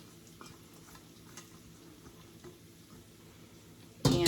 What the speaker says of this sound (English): I'm gonna mix in the spinach.